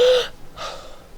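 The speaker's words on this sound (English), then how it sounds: "First, you take 30 deep breaths like this." One person draws a loud, sharp deep breath in, pauses briefly, then lets out a softer, breathy exhale. The breathing is close and alone, with no words.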